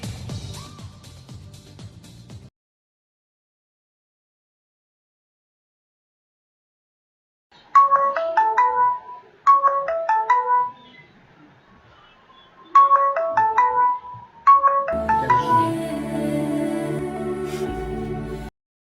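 A mobile phone ringtone plays as a repeated bright melodic phrase in four loud bursts after a stretch of silence, then gives way to music.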